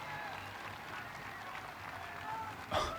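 A large crowd at a disc golf world championship cheers and claps in a steady roar, swelling into a sharper burst of whoops near the end.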